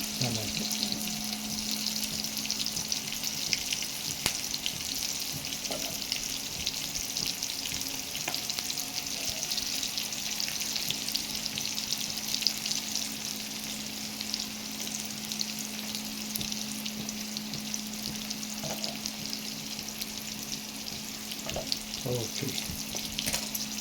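Cashews, tomatoes and garlic fry in a pan for kurma, giving a steady, close sizzle that runs continuously with a low hum beneath it and occasional faint clinks.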